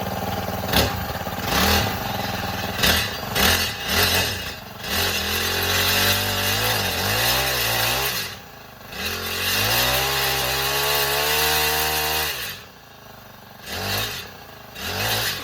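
A Honda FG110 mini tiller's small engine catches and runs, revving up and down with a buzzy, uneven roar and brief dips, loud and close throughout, with no voices.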